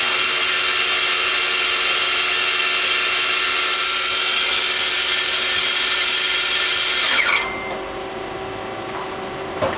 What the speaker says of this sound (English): These are the live tools running at 1500 RPM